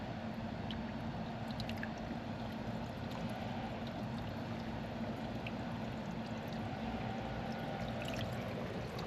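Water pours steadily over a car roof during a leak test, a continuous soft splashing and trickling wash that holds steady throughout with no voices.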